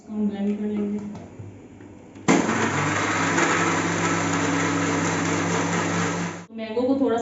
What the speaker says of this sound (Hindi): अब इसको ग्राइंड कर लेते हैं। इसको हम ब्लेंड कर लेंगे।